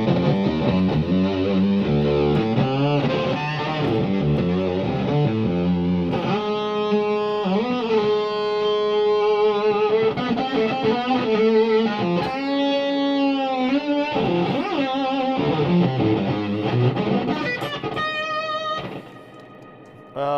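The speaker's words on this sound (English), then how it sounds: "These are more pedals that make bad noises," A guitar played through a fuzz distortion pedal gives sustained, gritty, buzzing tones with bending notes, continuing steadily before fading near the end.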